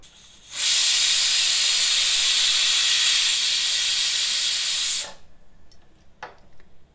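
A pressure cooker whistle lets out a loud, steady hiss of steam for about four seconds, then cuts off, leaving faint kitchen clatter.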